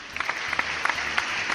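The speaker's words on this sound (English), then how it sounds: "Round of applause for Kevin" A small group applauds for Kevin, a gamer being congratulated during a podcast, with scattered claps forming a steady, moderately loud patter throughout.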